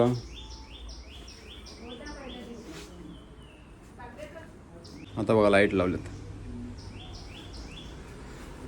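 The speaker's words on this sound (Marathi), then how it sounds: "आणि पक्ष्यांचा आवाज येतोय" Small birds chirp in trees beside a house gallery in Alibag, with quick repeated tweet series at the start and end, while people talk nearby and a louder voice briefly rises midway.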